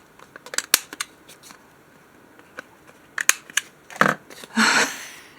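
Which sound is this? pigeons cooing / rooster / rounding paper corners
rounding paper corners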